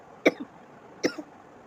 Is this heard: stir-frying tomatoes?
no